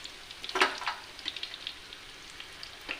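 Grass shrimp fritters frying in a kadai of hot oil as a spoon flips them, a steady faint crackle broken by a few sharper scraping clicks and spatters, no talk.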